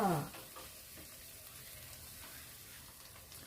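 Eggs frying in a pan for Thai shrimp paste fried rice with prawns: a steady, soft sizzle holds throughout at moderate level, with a brief louder burst at the very start.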